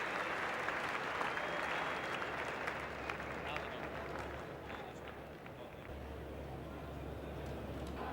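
Crowd at a 1991-92 Australia vs India Test cricket match applauds an on drive, a broad sustained wash of clapping and cheering that holds steady throughout.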